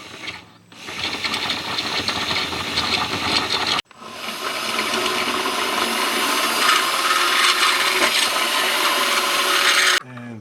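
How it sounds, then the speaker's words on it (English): A reamer works bolt holes in a transmission mount on a 4L80E install into a third-generation Camaro, giving a loud, steady grinding whir that runs for several seconds, cuts out briefly, then resumes until stopping abruptly. "Go ahead and ream these holes out a little bit."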